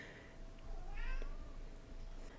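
A cat meows softly in the background indoors, one drawn-out plaintive cry over a quiet room hum.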